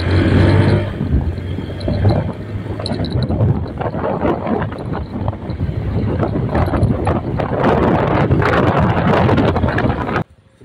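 A Honda Beat FI scooter with a newly replaced piston, its engine revved hard at full throttle in a continuous loud roar that holds steady for about ten seconds before cutting off abruptly.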